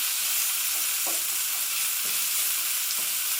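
Onions and garlic frying in a pan alongside browning courgettes for a courgette, lemon and black pepper pasta: a steady, close hiss of sizzling oil with a few soft scrapes of stirring.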